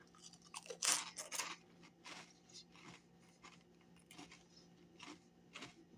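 Crunchy chewing of a Ranch Lovers Hot Pocket, close and quiet, with irregular bites and mouth crunches spread over a few seconds.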